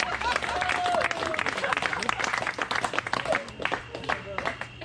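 Guests at a party for Caro and Mich clap together, a dense wash of applause with voices and cheers mixed in, tapering off toward the end.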